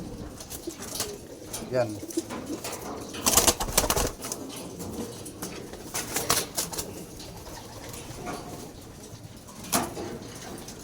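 Pigeons in a loft, one a young bird flown this summer, cooing softly with bursts of wing flapping nearby, while someone speaks briefly and other voices murmur in the background.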